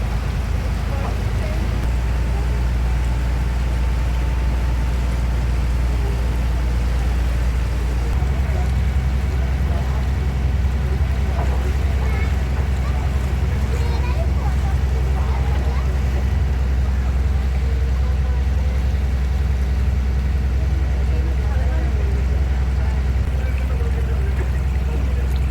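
A tourist boat motors steadily along a Kerala backwater canal thick with weed, its engine a constant low drone mixed with rushing water, close and unbroken throughout.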